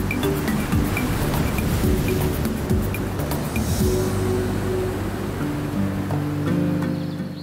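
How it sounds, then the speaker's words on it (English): Powerful Pacific Ocean waves break steadily on a flat coastline, a continuous loud wash of surf with low rumbling and wind noise and no voices. "Powerful waves are driven to the flat coastline by the winds of the Pacific Ocean."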